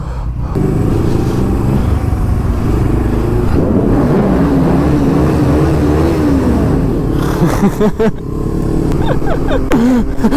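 Loud motorcycle engine roar, seemingly with exhaust pops and flames, sustained and close, with the pitch rising and falling as it revs, while voices talk over it.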